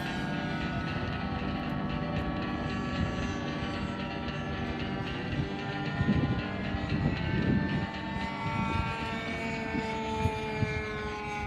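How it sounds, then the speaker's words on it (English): A model F-4 Phantom jet on its takeoff roll gives off a loud, steady engine roar with a sustained whine, holding continuously at close range with no talk. "We got the F4 Phantom on its takeoff roll."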